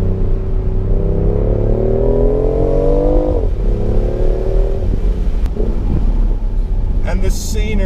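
A BMW i8 Roadster drives along a scenic country road, its engine humming and rising in pitch as it accelerates, easing off, then climbing again, with a voice heard over it.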